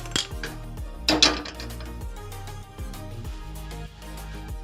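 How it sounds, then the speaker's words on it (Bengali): Metal kadai (wok) clanks onto a gas stove in a home kitchen, with a few sharp close knocks and rattles over a steady low hum. "গ্যাসটার মধ্যে একটা কড়াই চাপিয়ে দেবো।"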